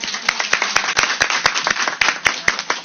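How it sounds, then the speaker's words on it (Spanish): Audience applause for the Women's Commission, a dense room of clapping hands with sharp claps standing out, steady throughout at moderate loudness. "aplausos para todos por estar acá también"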